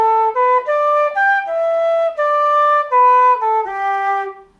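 Solo flute repeating a short traditional tune phrase, smooth connected notes with small articulation gaps, near and steady, with no voices.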